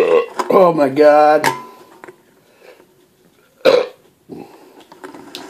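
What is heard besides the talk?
deep burps after chugging expired Coke Zero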